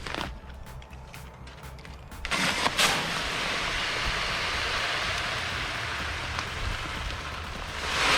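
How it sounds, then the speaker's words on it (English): Pre-emergent lawn granules pour steadily into an Impro broadcast spreader, making a dense, continuous rushing hiss like heavy rain that starts after a few faint ticks and holds to the end. "we'll get my Impro spreader loaded"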